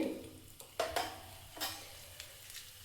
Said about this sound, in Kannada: ಈ ಎಣ್ಣೆ ಬಿಸಿಯಾದ ನಂತರ ಸಾಸಿವೆ, ಹಾಗೆ ಜೀರಿಗೆ